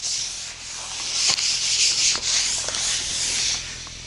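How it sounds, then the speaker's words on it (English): Brown grocery bag paper rubs firmly across finished cabinet wood surfaces in a steady, close, loud hissing wipe, slightly swelling and easing for about four seconds, with no talk. "brown grocery bag paper is the world's finest sandpaper, and I just use it to give all the surfaces a firm but quick wipe"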